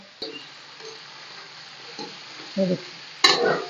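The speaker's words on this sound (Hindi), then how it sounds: "और मैंने चिकन फ्राई करना अच्छी तरह" Chicken frying in a pot for a tinda gosht curry gives a faint, low hiss broken by several sharp stirring scrapes and clacks, the loudest near the end, with no talking.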